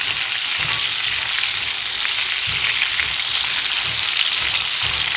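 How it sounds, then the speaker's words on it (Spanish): Chorizo and rice fry in a pan over medium-high heat, giving a loud, close, continuous sizzle with soft periodic scraping from stirring and no talking. "si ustedes ven estoy cocinando a fuego medio alto"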